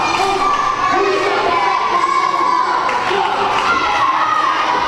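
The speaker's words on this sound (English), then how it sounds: "The crowd here loves chanting TJ." A wrestling crowd roars and chants in a steady, loud wash of voices at an arena event, with shouts rising over the continuous din and no individual words standing out.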